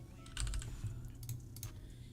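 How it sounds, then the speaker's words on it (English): Someone types a website address on a computer keyboard: a short, quiet run of key clicks in a few quick bursts over a low room hum. "We can go ahead and type in the site."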